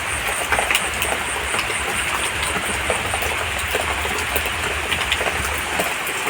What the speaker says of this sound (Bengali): দেখো কি পরিমাণে বৃষ্টি হচ্ছে, ভালো জোরে বৃষ্টি হচ্ছে